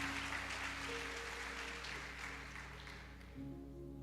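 Congregation applauding the Lord during a church service, a steady broadband clapping wash lasting throughout with sustained organ or keyboard tones underneath and no break.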